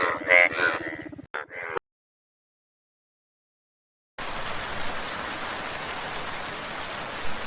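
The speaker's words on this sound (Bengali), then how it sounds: "দেখলি তো, বৃষ্টি শুরু হয়ে গেল।" Rain begins in a Bengali cartoon scene: after a brief spoken line and a moment of silence, a steady dense hiss of falling rain starts and continues evenly.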